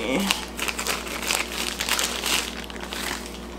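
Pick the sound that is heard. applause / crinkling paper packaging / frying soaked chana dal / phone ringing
crinkling paper packaging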